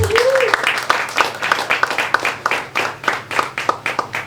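An audience at a panel event applauds a university vice-rector's introduction, starting with a short vocal cue and settling into steady, fairly close clapping with distinct individual claps rhythmically audible throughout.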